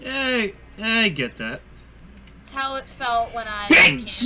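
A single sharp sneeze near the end, coming right after a stretch of conversational speech from a couple of people.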